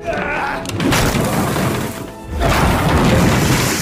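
A massive explosion in a World War II film scene, a loud booming blast with crashing, shattering debris that rolls on, dips briefly, then surges again with heavy rumbling.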